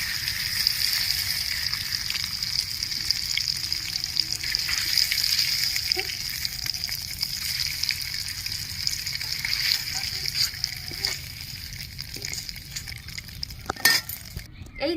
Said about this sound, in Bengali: তেলের মধ্যে আমি তেজপাতা ফোড়ন দিয়ে দিচ্ছি গোটা গরম মশলা দিয়ে দিচ্ছি